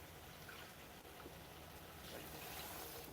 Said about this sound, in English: And then we add water.